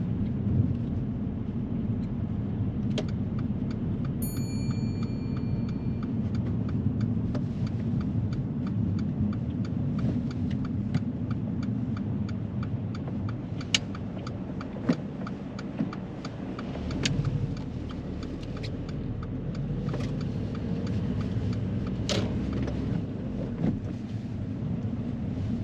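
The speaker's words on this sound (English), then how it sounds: "Driving down these 20 miles per hour roads, Shiv tends to go into third gear" A car drives along a 20 mph residential road, its low engine and road rumble steady from inside the cabin, with a few faint clicks and knocks on top and nobody talking.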